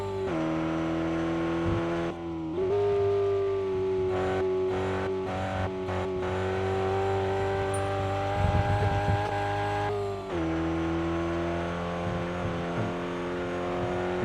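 A race car in the dirt racing video game RevHead drones steadily through laps, its engine tone shifting with gear changes and throttle lifts, and brief tire scrabbles break the continuous loud whine.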